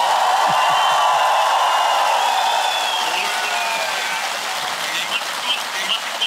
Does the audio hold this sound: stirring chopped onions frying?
no